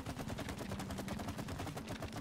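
Rapid gunfire in the video game It Takes Two, a dense, continuous burst of closely spaced shots with steady loudness throughout, no voices over it.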